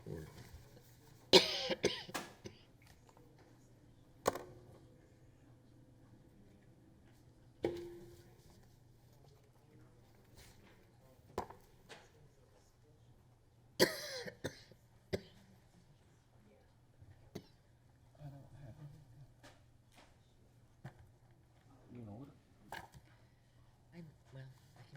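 Someone coughs repeatedly in a quiet room during a county school board workshop meeting, with sharp, scattered coughs and throat clearing spread across a low hum and faint background murmur.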